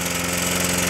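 Small lawn mower engine running on a fuel vaporizer, idling at a steady, even pulse with a slight knock; close, loud and continuous, with no one talking.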